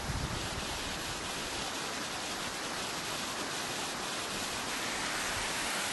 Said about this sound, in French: Un ruisseau,